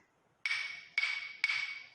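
Three sharp wooden clicks from claves held tightly, about half a second apart, each with a short, bright ring that dies quickly.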